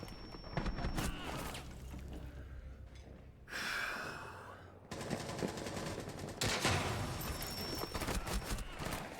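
Video game gunfire comes in quick bursts of sharp automatic shots, loud and close, broken by short pauses across several seconds, with faint game ambience between bursts.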